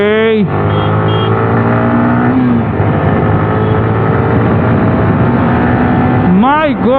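A Yamaha R15 V3 BS6 Dark Knight motorcycle accelerates hard in an acceleration test, its engine roaring loud and close as the revs climb, drop with a quick gear change, and rise again, with a voice speaking over it.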